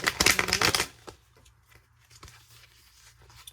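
Tarot cards being shuffled by hand: a dense, loud riffling burst over the first second, then quiet soft handling and a few light card taps.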